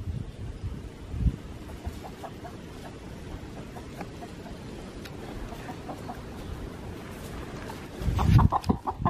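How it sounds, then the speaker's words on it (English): Chickens cluck intermittently at a steady, moderate distance against a rustling outdoor background in France, with a louder scuffle of movement near the end. "She really wants to catch the chicken"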